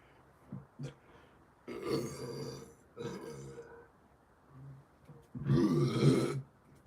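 A person burping several times: a few short bursts, then three long, loud, drawn-out belches close to the listener, with quiet gaps between them and no talk.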